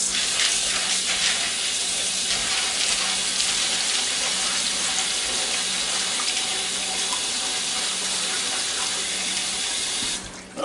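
Tap water runs steadily into a bowl while black-eyed peas are rinsed, a close, constant hissing splash that holds for about ten seconds and then cuts off abruptly, with no talking.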